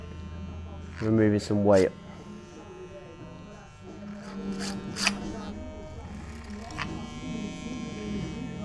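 A hair clipper buzzes through thick hair in two short close bursts, then hums more faintly while someone talks over it.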